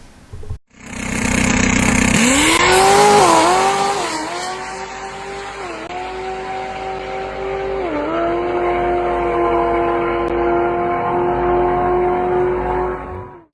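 A car launches hard using DSC Sport launch control at a quarter-mile drag strip, its engine roaring loud and close with rising revs and brief tire squeal, then holding a steady strained drone as it pulls away.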